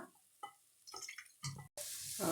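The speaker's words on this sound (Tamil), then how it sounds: "நம்ம இப்போ புளியை ஊற்றிடலாம்." Tamarind water is poured into a pan of bitter gourd cooking for a spicy kuzhambu. Quiet splashes and drips come first, then a louder, steady rushing pour at the end.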